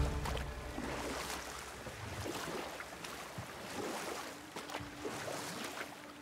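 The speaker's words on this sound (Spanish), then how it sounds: "Estamos sobre agua de mar." Boat gliding over sea water in the video game God of War, a soft wash of waves and water splashing with wind noise and faint creaks, quiet and continuous with no talk.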